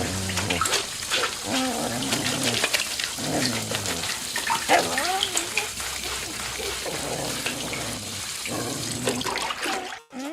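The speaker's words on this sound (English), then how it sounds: "Back through the water curtain." Water from a water curtain on a Disney ride splashes in a steady, full rush for about ten seconds, with voices and tonal sounds mixed over it, before cutting off abruptly.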